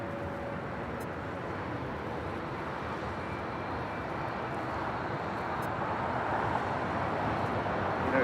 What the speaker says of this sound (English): We have China Airlines Cargo 777 now rolling on 25 right.